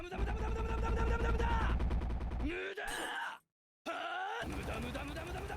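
Kick barrage attack from the video game YBA: a rapid, harsh run of hits with groaning tones that stops abruptly, a brief silence, then resumes loudly.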